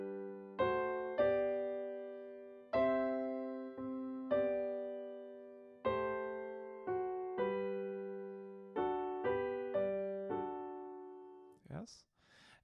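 On a piano, the left hand plays a bass line under right-hand chords. About a dozen distinct struck notes and chords ring out and decay in a steady, unhurried rhythm, close and clear, with a brief vocal sound at the end.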